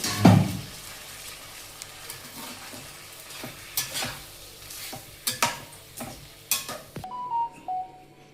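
Taro and rohu fish masala sautéing in a pan, with soft sizzling and a series of spoon stirs and scrapes against the metal, a brief louder clatter at the start and a faint beep near the end.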